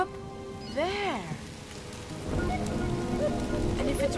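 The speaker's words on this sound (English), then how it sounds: "if it's raining down here" Steady rain patters throughout, with a rising-and-falling electronic warble early on and faint tonal chirps later over the wash.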